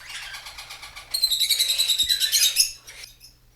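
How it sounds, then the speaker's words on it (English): Loud, close bird calls from a parrot: a rapid run of rhythmic chirps that builds into a dense burst of shrill, squawking notes before cutting off. "A parrot makes this sound."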